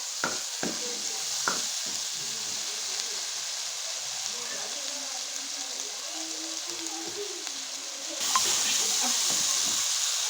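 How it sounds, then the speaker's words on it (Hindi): Potato and pea curry fries in a pan, a steady close sizzle with occasional stirring clicks and scrapes, brightening into louder hissing near the end. "भून लेंगे।"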